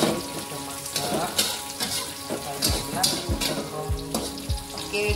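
Onions sizzle steadily in a hot pan during a fermented shrimp and egg dish, with frequent stirring scrapes and clinks over a continuous bright crackle at close range; faint background sounds occasionally intrude.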